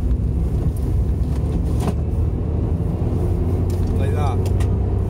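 Car accelerating up a ramp-like stretch of road, a steady loud low engine and road rumble from inside the vehicle, with a person talking over it.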